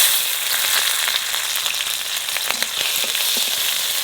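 Nigella seeds and green chilies fry in hot oil, a steady, close crackling sizzle with scattered sharp pops that runs throughout without any talking.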